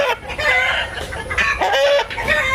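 Hybrid chickens crowing and clucking loudly nearby, with several overlapping calls and no talking.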